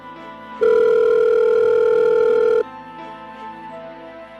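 A steady electronic ringback tone on an outgoing phone call sounds for about two seconds, loud and even, then cuts off abruptly against a low background hum.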